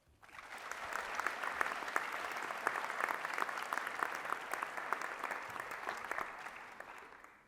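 A large audience at an opening convocation applauds to welcome a speaker to the stage, a dense, steady clapping that starts abruptly, holds evenly for several seconds and fades at the end.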